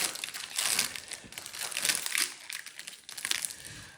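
Sealed Pokémon booster pack wrapper being pulled open, close crinkling and crumpling plastic in several bursts of rustle that rise and fall, with no talk.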